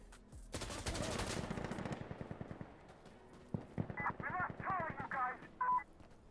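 Gunfire in the video game Insurgency Sandstorm, with the weapon set to 3-round burst: a loud, dense run of rapid shots for about two seconds, then scattered sharp reports and other busy game sounds.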